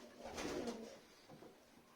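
Soft pigeon cooing in a coop, a low burbling call followed by a few quieter coos, close by with a hushed background.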